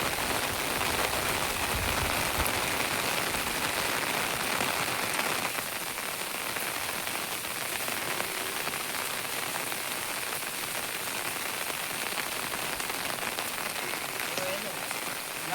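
Heavy, unbroken monsoon rain pours onto a flat rooftop terrace in Gujarat after days of downpour, a loud dense hiss and patter filling the whole stretch evenly, with no voices heard.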